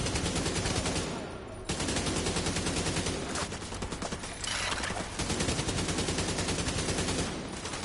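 AK-47 rifle fire in The Division 2, loud rapid automatic bursts nearly filling the clip with a brief pause before two seconds and short gaps later, dense and close.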